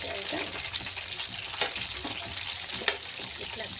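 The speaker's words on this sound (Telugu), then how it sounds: "ఎందుకంటే చికెన్ తొందరగా ఫ్రై అయిపోతుంది ఆయిల్ మంచిగా వేయటం" Chicken pieces fry in oil with a steady, fairly quiet hiss and crackle, marked by two brief sharp pops.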